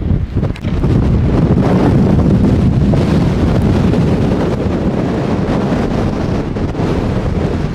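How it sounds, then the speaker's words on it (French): Loud, constant wind buffeting the microphone on a trek through Scotland, a heavy low rumble with gusty roar throughout and no voices. "Après c'est le vent."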